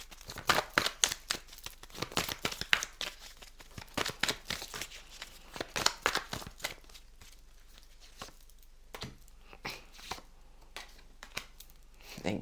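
Tarot cards being shuffled and drawn, with rapid papery flicks and crinkly riffles close to the listener, easing into sparser handling sounds toward the end.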